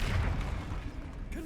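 Confringo spell blast in Hogwarts Legacy: a single short, deep, booming explosion with a rumbling tail, fairly quiet and over in a moment.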